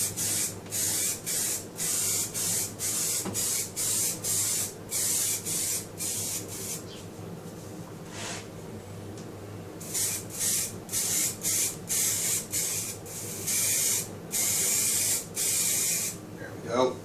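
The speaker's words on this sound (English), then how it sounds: "Spray paint on the cells at this rate." A spray paint can hisses in repeated short bursts onto battery cells, steady and close, with a brief pause midway before the rapid spraying resumes.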